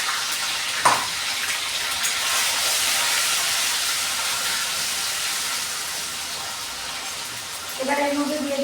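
Ginger and green chili paste frying in hot oil, a loud continuous hiss and crackle that holds steady before a brief clatter near the end.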